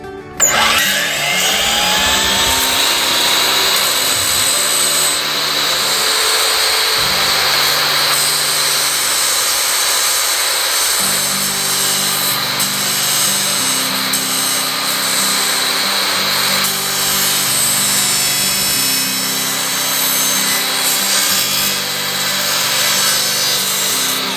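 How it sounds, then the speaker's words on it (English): A power saw blade cuts sideways through wood on a farm project, a steady loud rasping buzz that runs the whole time with small shifts in pitch as the cut goes on, and no talk over it. "you can actually cut this sideways with this saw blade"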